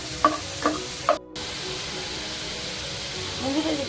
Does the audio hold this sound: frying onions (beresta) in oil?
yes